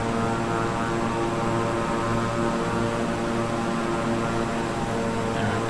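Beechcraft 350i King Air turboprop engines in Microsoft Flight Simulator drone on with a steady, loud, tonal hum and no clear change in pitch or level. Nobody speaks.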